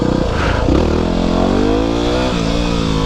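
A Yamaha WR250R dual-sport motorcycle engine revs and holds a rising, throaty drone close by during a wheelie on an abandoned road in Japan, with a brief clattery scrape partway through.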